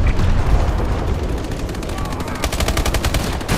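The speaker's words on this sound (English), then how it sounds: "Friendly bombing run incoming" Bombing run explosions rumble through a Call of Duty: Advanced Warfare Domination match, with deep booms blending into rapid machine-gun bursts that grow sharper and more staccato toward the end.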